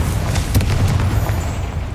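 An explosive Confringo spell blast in the Hogwarts Legacy video game, a loud, dense rumbling boom with a sharp burst near the start that rolls on steadily for two seconds without a clear decay.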